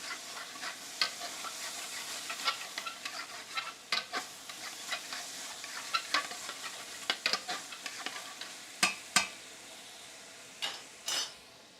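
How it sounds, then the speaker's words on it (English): Food, apparently peas, sautéing in a pan over lowered heat: a soft, faint sizzle with scattered utensil taps and scrapes that grow sharper and more spaced toward the end. "I'm going to turn this heat down a little bit so that way we can do a little saute on this"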